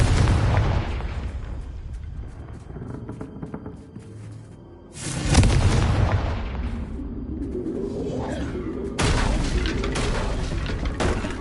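A Confringo fire spell in Hogwarts Legacy blows up in a heavy, booming blast, with a second strong burst a few seconds later and a rumbling tail of debris and crackle between and after.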